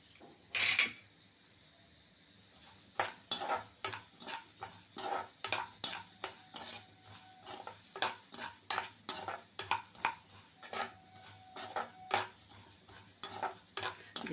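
Cumin seeds frying in a pan while karepak podi is made, a faint sizzle beneath a rhythm of frequent sharp stirring clinks and scrapes of a spoon against the pan, after a short quiet start.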